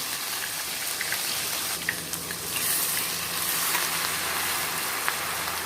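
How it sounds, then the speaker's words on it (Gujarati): Ginger, chilli and garlic sautéing in hot oil with mustard seeds over a low gas flame, giving a steady close hiss and crackle with small pops throughout, no voices. "અહીંયા ગેસની ફ્લેમ આપણે લો કરી દેવાની છે અને આદુ મરચાં લસણને સરસ રીતે સાંતળવા દેવાના છે"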